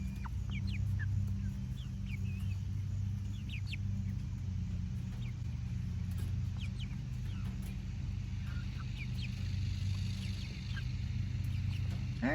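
Chickens cluck and call intermittently in the background of a backyard coop, faint and scattered over a steady low rumble, with no one speaking.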